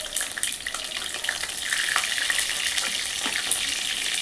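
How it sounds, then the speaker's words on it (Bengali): Pumpkin pieces frying in hot oil, a steady close crackling sizzle with scattered pops and a few stirring scrapes, moderately loud and without speech. "কুমড়োগুলো আমি লাল লাল করে ভেজে আপনাদেরকে দেখিয়ে দিচ্ছি।"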